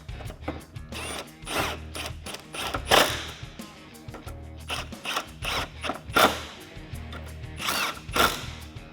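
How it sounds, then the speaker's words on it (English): A ratchet with a 10mm socket tightens bolts while RAM 1500 projector headlights are installed, producing repeated bursts of rapid clicking at close range with brief pauses between strokes. "Grab your 10mm socket and tighten all of these down."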